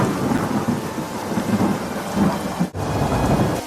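Heavy rain pours steadily in a thunderstorm, with a dense close hiss and deep rolling thunder rumbling beneath it throughout, and no voices.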